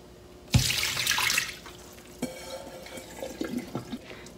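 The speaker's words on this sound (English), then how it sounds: "When the seaweed gets soft, drain the water." Soaking water poured off softened seaweed in a kitchen while making seaweed salad, a sudden splashing gush into a sink followed by trickles and drips tapering away.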